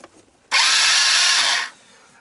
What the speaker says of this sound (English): The starter's alive.